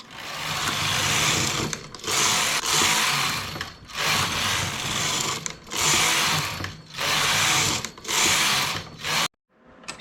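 A knitting machine works rows of lace stitch for a lace beach shorts cover-up, loud rhythmic carriage passes in about six bursts with brief pauses between, close up and with no talk.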